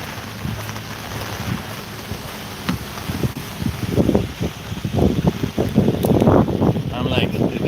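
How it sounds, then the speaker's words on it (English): Typhoon Hinnamnor's gusts and rain batter an umbrella on a street in Ulsan, South Korea. The rushing, buffeting noise swells louder toward the end, with a voice speaking briefly beneath it. "Walking with the wind is a little bit calmer."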